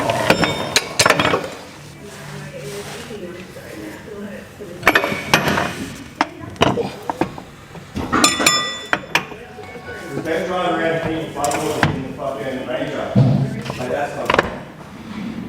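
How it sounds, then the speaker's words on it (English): A metal slip yoke is worked into the driveline of a lifted Ford Ranger Raptor, producing loud, close metallic clanks, knocks and scraping in irregular bursts, with stretches of quieter handling noise between hits. "we'll see if this slip yoke goes into here"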